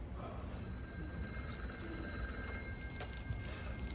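A telephone bell rings as a sound effect in a high school theater radio play of It's a Wonderful Life, a steady jangling ring over a dense, noisy background.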